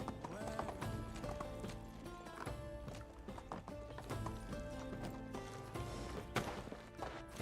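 Horse hooves and a whinny in the medieval village game Medieval Dynasty, steady clip-clop steps under a constant dense layer of game ambience and music.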